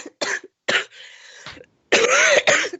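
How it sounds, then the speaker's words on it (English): Several harsh coughs in a close coughing fit from a radio show guest who is losing her voice, bursts broken by a short throaty pause, loud and near with no speech. "I'm starting my coughing fit now."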